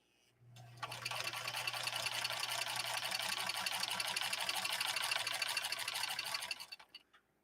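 A Singer Centennial Class 15 sewing machine with an oscillating hook runs steadily for about six seconds, a fast even whirring chatter with a low hum beneath, close and alone, starting and stopping cleanly.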